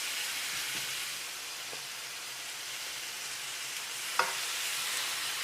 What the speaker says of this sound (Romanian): Cu cât mai bine sfârâi, cu atât mai bine.